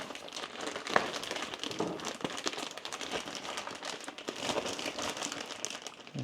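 Packaging for a DJI RS 4 camera gimbal gets torn and crinkled open up close, with irregular plastic and paper rustles and short ripping bursts.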